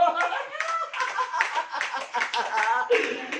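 Harmonic voices in a rhythmic, chant-like pattern, not the broadband bursts of a clapping audience.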